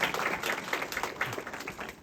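Audience applause in an interview setting, a steady wash of many hands clapping at moderate, fairly distant level, with no other sounds standing out over the two seconds.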